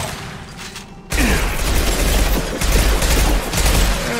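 SMG fire in Mass Effect 2 erupts suddenly after a quiet moment, then keeps up as loud, close, sustained automatic bursts with heavy low thumps and mechanical clatter.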